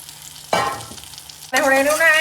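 Carrot pickle coated in masala is stirred in a pan in two short bursts, the second louder and brighter, with a faint sizzle between the strokes.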